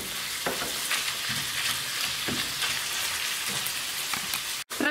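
Minced meat and onions frying in a pan while being stirred: a steady close sizzle with scraping stir strokes, one brief dropout near the end.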